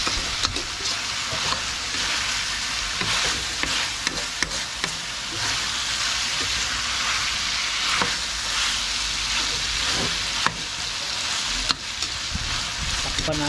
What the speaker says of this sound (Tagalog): i-mix na naman natin para mahalo-halo natin yung ating karne